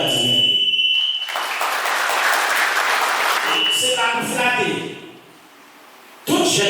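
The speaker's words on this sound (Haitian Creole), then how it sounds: "Applaudis fortement ancien sénateur de Jean-Baptiste" An audience at a Fanmi Lavalas political commemoration applauds a former senator, a dense burst of clapping that swells over several seconds before cutting off, with a voice over it at the start and end.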